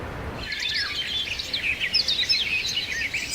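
Forest ambience where several birds chirp and trill in quick, overlapping bursts after a brief quiet start, fairly faint and set against a soft background hiss, with no talking.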